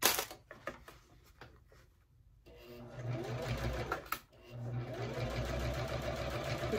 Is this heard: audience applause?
no